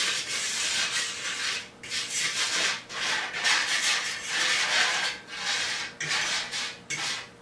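Breading mixture stirred together in a pan for eggplant, giving continuous close scraping and rubbing strokes in a steady back-and-forth rhythm, fairly loud with brief pauses between bursts and no talking.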